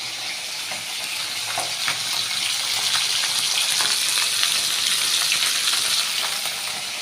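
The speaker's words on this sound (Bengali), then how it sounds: "তেলাপিয়া মাছ ভাজা হচ্ছে।" Tilapia fish frying in a pan of oil, a steady dense sizzle that runs close and loud for the whole stretch, with faint crackles and pops scattered through it.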